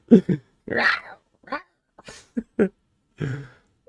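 A voice imitates animal-like growling in a string of short, rough bursts separated by brief pauses, close and moderately loud.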